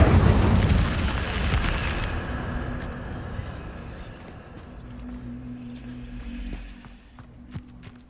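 Incendio fire spell cast in Hogwarts Legacy, a loud whooshing roar of flame that bursts at the start and slowly fades over several seconds, with a low hum and scattered clicks continuing underneath.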